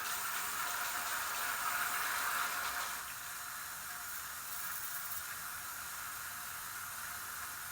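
Water rushes into pool plumbing pipes under a pressure test, a steady hissing flow that is louder at first then settles to a softer, even rush with no talk.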